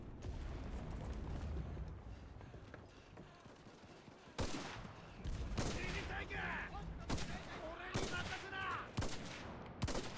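Submachine gun fire in a shooter video game, with several sharp bursts of shots over a steady bed of battle noise and a low rumble, fairly loud throughout.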